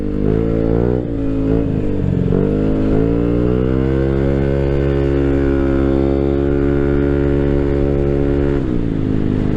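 A Yamaha NMAX V2 scooter engine runs steadily and loud throughout while riding, a low harmonic drone that dips briefly near the start and again near the end as the throttle shifts.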